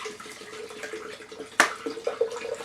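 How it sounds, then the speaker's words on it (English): Coconut water pouring into a glass blender jar: a steady liquid trickle and splash with a sharp clink partway through, then a few small glugs and drips, close and moderately quiet. "So we got the C2O coconut water going right in."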